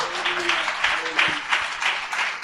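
A church congregation claps during a sermon, a brief patter of applause from many hands with a voice speaking over it.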